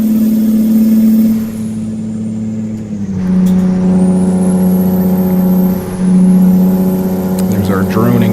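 A Kenworth T100 truck engine in American Truck Simulator drones steadily and loud, its low hum dipping and shifting pitch twice as gears change, with faint talk beneath.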